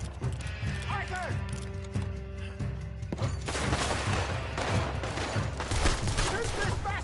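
Red Dead Redemption 2 gameplay: a burst of gunfire and shots ring out amid hoofbeats and mechanical clatter, with shouting voices over the fight.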